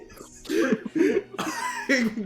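A baby character in a video game gives a run of raspy, throaty coughs, four or five close bursts, with faint noise between them.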